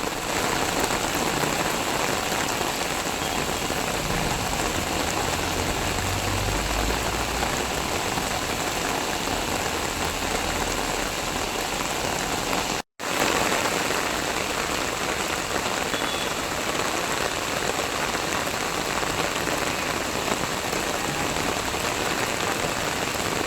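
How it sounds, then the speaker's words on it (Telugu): A heavy downpour hammers surfaces in Gannavaram, Krishna district, as a dense, constant hiss of rain. It cuts out briefly midway and carries a faint low engine hum beneath. "కృష్ణా జిల్లా గన్నవరంలో కుండపోత వర్షం కురిసింది"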